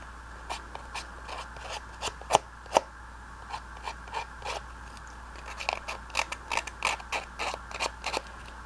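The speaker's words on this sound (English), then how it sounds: "You don't have to use scissors to crunch something up, but I like using my scissors." Scissors crunch and crumple paper to grunge it for a craft journal card, giving a series of quiet, irregular crisp crackles and snips close by.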